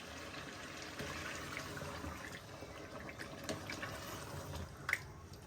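Water from straining the dal is poured into a pot of frying lentil and gourd curry, giving a continuous soft splashing and bubbling sizzle with small drips, close and moderately quiet.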